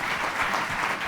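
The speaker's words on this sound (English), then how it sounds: "please give applause" Brief applause from an audience at a panel on Africa's role in the world economy, an even wash of clapping lasting about a second.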